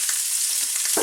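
Chopped onion sizzles loudly in hot corn oil with bacon, a steady close crackle filling the whole second with no talk.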